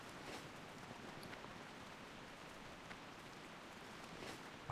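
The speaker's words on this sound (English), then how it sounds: "I don't remember the rain being this extensive in Stranglethorn Vale" Steady rain in Stranglethorn Vale in World of Warcraft Classic, a soft, even hiss of falling drops with faint scattered taps, continuous and fairly quiet throughout.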